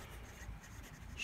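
Steel Schmidt medium nib of a Retro51 Tornado Lincoln fountain pen scratching softly across paper, a faint, continuous close-up scribble that briefly brightens near the end.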